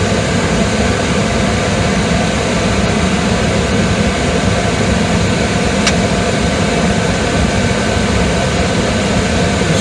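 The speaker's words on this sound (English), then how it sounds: "So now the blower is running." A blower running on an HVAC unit whose transformer has just been replaced, a loud, steady broadband whoosh and rumble with no talk.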